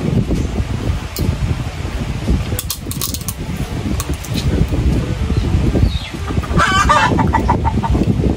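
Chickens cluck and call in a busy coop, with a sharp crow-like burst near the end over steady background noise.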